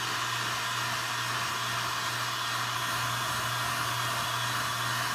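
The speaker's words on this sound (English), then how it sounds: "Like I said, the hair dryer is the way to go here." A hair dryer blows steadily and loudly with a constant motor hum and airy whoosh, running without pause and no voices.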